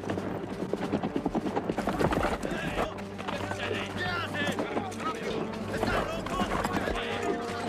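Horses galloping in a 1995 film, a dense, rapid drumming of hooves close by with an occasional whinny, under a low steady rumble and overlapping shouting voices.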